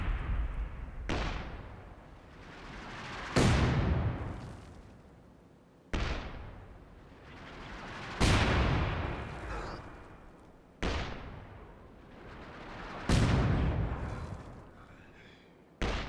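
Veteran-rank Scott self-propelled artillery in Company of Heroes 2 fires a series of six heavy booming rounds at regular intervals, each loud blast trailing off in a long rumbling decay before the next shot.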